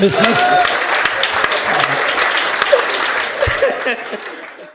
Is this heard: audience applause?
yes